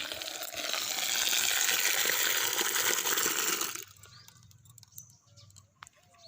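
Water gushes steadily into a pitcher or clay pot, a loud continuous rushing fill for nearly four seconds that stops abruptly, followed by quiet outdoor ambience with faint small sounds.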